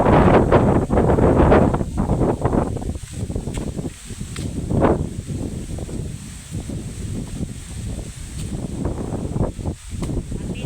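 Strong gusting wind buffets the microphone outdoors during a coconut harvest, roaring steadily and loudly throughout with rustling bursts and no clear talk.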